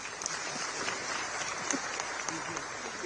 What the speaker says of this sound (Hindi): इनके लिए भी आप जोरदार ताली बजा सकते हैं